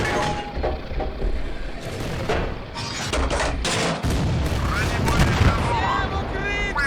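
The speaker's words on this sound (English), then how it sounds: "The 45mm gun is decent enough." Gunfire and impacts from a BT-5 Mod. 39 tank's 45mm gun in the Steel Fury combat game: repeated sharp bursts amid steady loud battle rumble, with a voice talking over the action.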